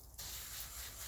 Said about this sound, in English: spray a little bit of water in there.